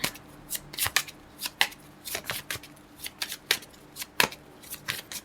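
Tarot cards being shuffled by hand, heard as a series of crisp, close riffling and slapping bursts at an irregular rhythm with quiet pauses between them. No one speaks.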